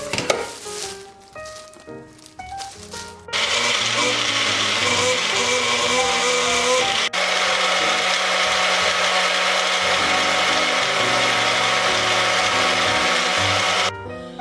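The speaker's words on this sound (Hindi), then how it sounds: "तो अब हम इसको मिक्सी को चला देते हैं अच्छे से बंद करके" A loud electric mixer grinder whirs steadily for about ten seconds blending green chutney, starting abruptly after a few quieter kitchen clatters and stopping near the end.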